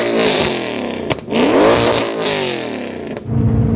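An LS-swapped Porsche 911 fitted with a custom exhaust revs loudly up close, its engine note climbing and falling in sweeping pulls with brief gaps between revs.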